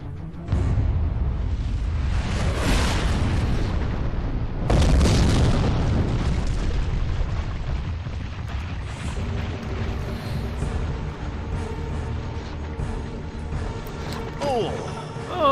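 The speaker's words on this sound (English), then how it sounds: "If that's a nuclear bomb, even at 30 seconds, he didn't get far enough away." A nuclear bomb blast in the adventure game Secret Files 2: a loud, sustained booming rumble with a second heavy surge midway, rolling on under voices talking.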